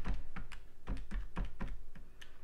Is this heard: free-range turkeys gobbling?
no